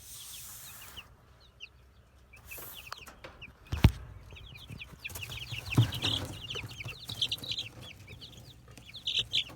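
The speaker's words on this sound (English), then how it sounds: "Plenty of chickens." Chickens outdoors clucking in short, repeated chirpy bursts, several birds near the microphone, with occasional louder thumps and low background noise.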